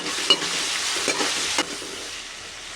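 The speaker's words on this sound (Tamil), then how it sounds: "தக்காளி சேர்த்துட்டு கொஞ்சமாக உப்பு சேர்த்துக்கிடுவோம்" Tomatoes with a little salt are stirred and fried in a pan for chicken curry, a close hissing sizzle punctuated by a few sharp scraping strokes of the spoon.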